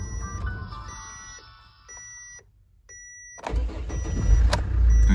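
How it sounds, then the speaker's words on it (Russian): A warm diesel car with a 4D20 engine and a hard start: a faint electronic beep and some clicks, a pause, then the starter cranks and the engine catches into a loud, rumbling idle. "я вам покажу просто запуск, хотя машина маленько уже поработала у нас"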